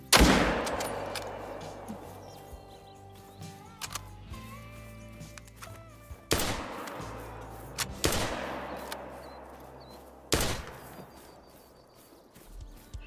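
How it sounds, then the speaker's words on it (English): Three loud .223 rifle shots ring out in the Call of the Wild hunting game during a whitetail deer drive, each a sharp crack with a long decaying echo, spaced a few seconds apart over a quiet outdoor background. "Shots fired."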